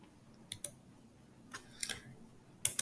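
Computer mouse clicks, a few faint, sharp, isolated clicks spaced irregularly in a quiet room, the last pair coming close together.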